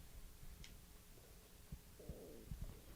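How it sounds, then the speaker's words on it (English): A person's stomach growls with a few faint low gurgles and short rumbling bursts over quiet background noise, with no talk. "my stomach growling"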